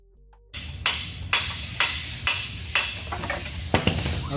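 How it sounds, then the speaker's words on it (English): Loud metallic hammer blows on a pry bar beat out the axle of a 2011 Toyota RAV4 roughly every half second, sharp clanging impacts ringing over a steady background. "I end up having to beat it out with the pry bar and a hammer."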